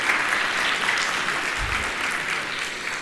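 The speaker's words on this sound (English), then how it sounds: "Let us have a big round of applause for our eminent speaker." An audience at a professional talk gives a sustained round of applause for the speaker, a dense wash of clapping at steady loudness throughout.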